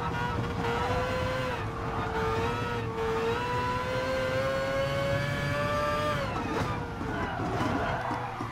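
A race car engine in Gran Turismo Sport wails in a high, steady tone that climbs through the gears, then shifts down near the end, under faint game ambience.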